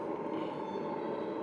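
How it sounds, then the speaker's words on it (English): A ten-car double-decker train in a railway simulator rumbles along with a steady, continuous rolling drone. "This is a 10-car double-decker train, which is cool."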